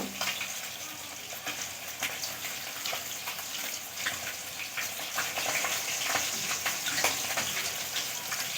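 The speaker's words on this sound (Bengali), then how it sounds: "দেখুন আমি 2 বাটি জল দিয়ে দিয়েছি।" Two bowls of water go into a hot cooking pan of fish, cauliflower and eggplant, giving a steady close hiss and bubbling sizzle with small clicks throughout.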